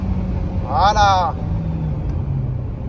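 An Alpine A110 R sports car on a race circuit, heard from the cabin as a steady low engine drone under a light trickle of throttle, with one brief rising and falling tonal swell near the start.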